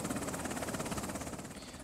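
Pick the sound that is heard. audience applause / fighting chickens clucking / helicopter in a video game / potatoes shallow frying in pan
helicopter in a video game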